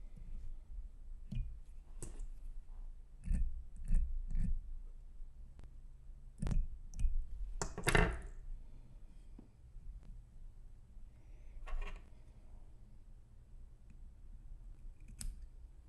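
Scissors snip leftover wire along the bottom of a fly-tying hook shank, a series of sharp, close, irregularly spaced clicks and cuts over a quiet background.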